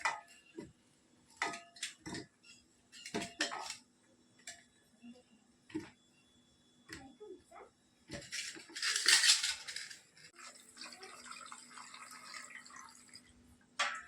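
Metal pot handled in a kitchen while green corn cobs are set to boil: a series of sharp clinks and knocks at irregular intervals, followed by a splashing rush of water, close and alone without talk.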